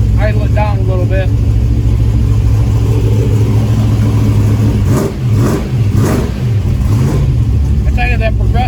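A 1971 Chevrolet El Camino Super Sport set up for nitrous runs a loud, steady V8 idle close by, then a few short throttle blips swell and fall. Someone talks over the engine.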